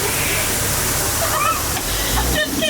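Water spraying from elephant trunks on the Walt Disney World Jungle Cruise ride: a steady hissing rush of spray heard close, running under someone talking throughout.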